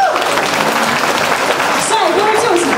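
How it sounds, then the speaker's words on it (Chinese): Concert audience applauding steadily, a dense wash of clapping filling the moment, with a voice speaking over it near the end. "可以听到大家的掌声吗？"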